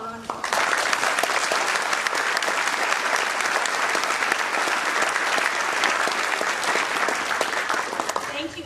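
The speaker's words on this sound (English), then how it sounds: "Please give them a round of applause." Sustained applause from an audience at a Waukesha mayoral debate, steady and dense clapping filling the room for about eight seconds before tapering off.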